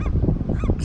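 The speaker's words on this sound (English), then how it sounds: "Seagulls bark." Seagulls at a beach giving short, harsh, barking calls, several rapid loud honk-like bursts packed into under a second, close and alone.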